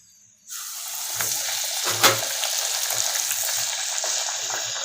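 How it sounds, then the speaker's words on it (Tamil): Rolled wheat poori dough slides into hot oil and bursts into an immediate loud, bubbling sizzle that keeps going steadily, with a couple of soft knocks from the pan. "எண்ணெய் நல்லா காஞ்சிருச்சு. இப்போ நம்ம தேய்ச்சி வச்சுருக்க அந்த பூரி மாவை உள்ளே போடலாம்."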